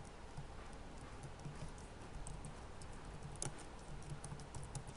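Steady, faint patter of computer keyboard typing while CSS code is entered, with rapid light keystrokes continuing throughout and no voice.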